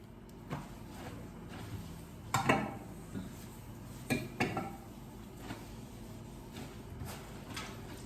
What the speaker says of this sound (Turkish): makinenin almadığı bulaşıkları da elimde hemencecik yıkayayım dedim